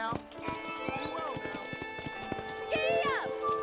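Horse hooves clip-clop in the video game Red Dead Redemption, a quick, steady rhythm close by. A whinny rises over the hooves and voices talk at the same time.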